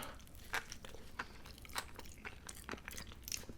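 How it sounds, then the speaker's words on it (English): Crunchy bites and chewing sounds, quiet and close, with irregular crisp snaps between softer mouth noises as someone eats Burger King fast food: cheeseburgers, chicken, fish and fries. "I'm eating a little bit of fish"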